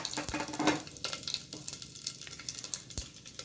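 Whole garam masala spices hit hot oil in a pan for tomato rice, giving a crackling sizzle with a few spoon-and-pan clinks early on, close and fairly loud throughout.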